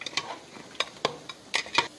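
Mutton curry being stirred in a pressure cooker with onion paste and boiling water, giving a few scattered scraping clinks and soft sizzles at an irregular rhythm, close and fairly quiet.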